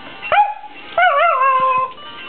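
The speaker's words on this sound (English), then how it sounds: "I can make him bark at will." A dog at home gives two short yelping barks that stretch into whining, howl-like cries, loud and close with a brief pause between them and no talking.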